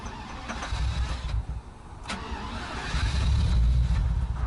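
Engine of a fake Lamborghini Aventador replica car cranks and catches, a loud low rumble that surges, dips briefly, then swells into a heavier steady roar.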